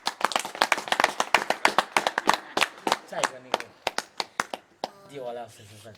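An audience claps in separate, sharp, fairly loud claps that thin out into scattered hits, and a voice talks over the last part.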